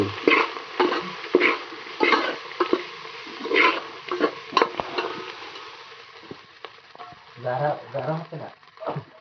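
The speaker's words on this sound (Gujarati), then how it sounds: "ત્યારબાદ એ આપણે બરાબર એને મિક્સ કરી લેવાનું છે" Poha is stirred with turmeric in a pan, giving intermittent scraping and light sizzling as a person talks over it.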